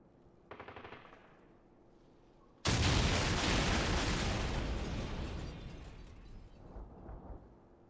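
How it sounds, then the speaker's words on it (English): A bomb detonates in a search-and-destroy round of a video game: a short burst, then a sudden, loud, roaring explosion that rumbles on for several seconds before tapering off. "Bomb."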